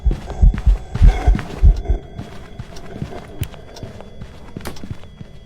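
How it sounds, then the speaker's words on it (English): A ghost's quick footsteps thud through a house in the video game Phasmophobia, a run of fast heavy steps that starts loud and close, then continues fainter and scattered. "Those footsteps are definitely faster."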